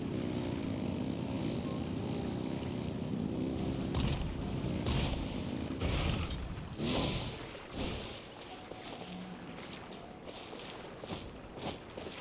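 Engines rev in Genshin Impact, a loud, steady mechanical drone with surging swells around the middle and scattered clanks and thumps, then easing lower toward the end.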